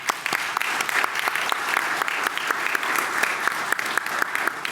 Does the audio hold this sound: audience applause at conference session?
yes